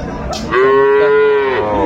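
One long, loud moo from a nearby cow, steady and droning, rising out of a brief noisy moment at the start, at a cattle market in Aftabganj, Dinajpur.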